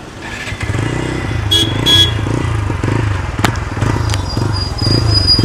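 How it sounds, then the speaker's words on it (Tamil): A motorcycle idles and revs its exhaust nearby at a showroom, a steady throbbing engine note with repeated rising pulses, while faint voices murmur in the background. "ஸோ வண்டியோட எக்ஸாஸ்ட் இருக்கு கேளுங்க"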